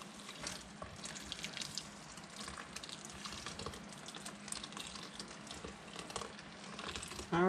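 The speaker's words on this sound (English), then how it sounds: "then fill it with cold water. Until your veggies are completely secured or submerged" Cold tap water running into a container over chopped garden vegetables for sweet relish, a steady splashing, bubbling flow at close range without speech, growing a bit louder at the very end.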